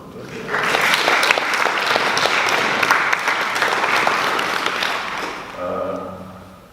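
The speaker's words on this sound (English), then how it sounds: "I think I deserve a round of applause." An audience at a book talk by Gerry Adams in Pilots Row breaks into loud, sustained clapping that swells quickly, holds for several seconds and tapers off at the end, where a voice briefly speaks.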